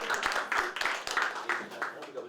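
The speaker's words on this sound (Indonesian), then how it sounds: "Tepuk tangan Joyce." Brief studio audience clapping on a talk show as a guest walks in, moderately loud, with a host's voice talking over it throughout.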